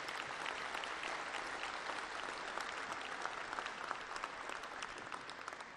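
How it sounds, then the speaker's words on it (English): Sustained audience applause at a 2013 sports hall of fame induction ceremony, a dense steady clatter of many hands clapping together throughout, loud and continuous with no voices over it. "Would you give them a nice round of applause, please?"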